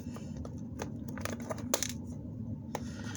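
Plastic packaging from Jurassic World Bendy Biters toys being cut open, with a string of small crisp snips, clicks and crinkles at an irregular pace, close and fairly quiet.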